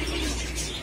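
A pigeon coos softly inside a pigeon shop, one brief low murmur against faint background noise.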